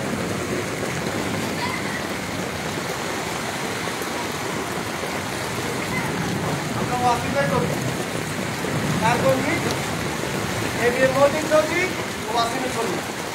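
Heavy rain pours steadily in Chittagong, a dense hiss of water on surfaces and running water, with occasional splashes and voices faintly mixed in.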